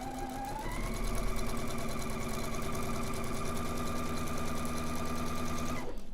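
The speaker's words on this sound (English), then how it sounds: "I'm going to use my guide and my 1/4 inch foot, holding my left hand on the side of my strip, and I will only sew up to my fingers." A sewing machine fitted with a 1/4 inch foot and guide sews a strip in one steady, unbroken run, a close, loud rhythmic whir that rises in pitch at the start and stops abruptly at the end.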